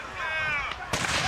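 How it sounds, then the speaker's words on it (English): A single cannon shot at the Rye Medieval Festival: a sudden, loud outdoor boom that cuts in after a stretch of murmured voices and leaves a rumbling tail. "The opening foray is usually a cannon shot."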